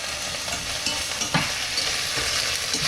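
Dried shrimp and ginger sizzle steadily in a hot frying pan while being stirred, with a bright continuous fry hiss and occasional soft scrapes and clicks of the utensil against the pan.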